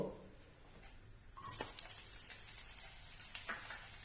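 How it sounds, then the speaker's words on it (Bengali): Chopped onions hit hot mustard oil in a pan, a crackling sizzle bursting in about a third of the way through after near silence, then holding steady and close with scattered sharp pops. "পেঁয়াজ কুচিগুলো একটু ভাজবো"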